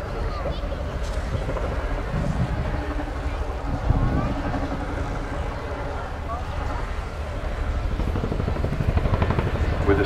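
An RAF Chinook twin-rotor helicopter slows sharply during a display flight at RIAT 2024, its loud, heavy rotor thrum and rumble filling the air continuously while a voice talks over it.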